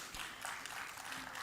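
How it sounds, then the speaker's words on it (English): An audience at a fintech festival in Bhubaneswar claps in a dense, continuous wash of applause, fairly even in level throughout the short stretch. "Can we have a thunder round of applause"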